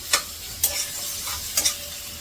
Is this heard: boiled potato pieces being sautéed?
yes